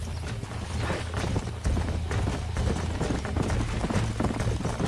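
Horse hooves gallop steadily in Red Dead Redemption, a continuous, loud clip-clop rhythm with a low rumbling bed beneath, heard alone without speech.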